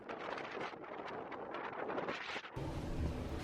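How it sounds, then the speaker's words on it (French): Strong storm wind gusting around a mountain hut area, roaring and buffeting the microphone at close range, then shifting to a lower, steadier rumble near the end. "Le vent est bien plus fort que la nuit dernière et ce matin."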